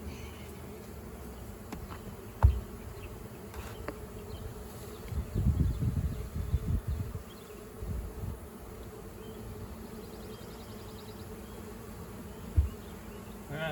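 A swarm of honey bees fans and buzzes in a continuous, dense drone, with individual bees passing close and louder bursts of wing noise, plus a few handling bumps.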